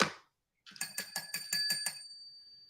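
A small bell rung rapidly about seven times in a quick, even rhythm, bright and close, then a sustained ringing tail fading out; a brief voice fragment comes just before it.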